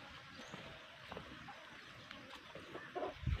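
Hungry chickens on a farm cluck faintly and softly at a distance over low rustling background noise, with a louder burst of clucking near the end.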